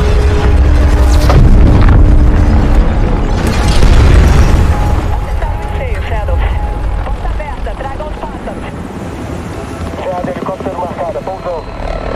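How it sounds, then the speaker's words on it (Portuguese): Booming fireworks-style explosions and heavy rumble open the intro of the Modern Warfare/Warzone video game, loud and dense at first, then thinning into scattered crackles with a voice speaking over them. "Que tal os fogos? Espera só para ouvir."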